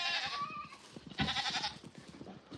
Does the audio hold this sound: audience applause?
no